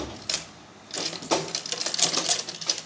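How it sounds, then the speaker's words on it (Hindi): Short bursts of machine stitching sew a folded neck strip onto a 42-inch blouse, with uneven rattling pulses and brief pauses between runs. "मशीन से सिलाई लगानी है इसके ऊपर"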